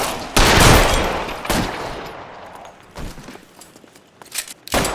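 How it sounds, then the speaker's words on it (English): Gunfire in the L.A. Noire video game, with a loud close burst of shots followed by several separate sharp bangs that come at irregular intervals, plus quieter firing trailing off between them. "Covering fire!"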